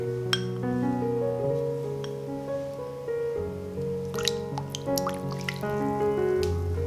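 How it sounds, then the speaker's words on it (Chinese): Heated milk is poured into a bowl ahead of melted chocolate and butter, giving a soft liquid trickle with light drips and an occasional clink of the container, close and without talk. "把加热的牛奶倒入盆里，然后再加入之前融化的巧克力黄油。"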